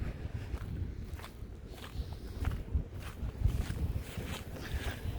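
Footsteps walk along a muddy riverbank, a steady series of soft steps close by at a walking pace with no talking.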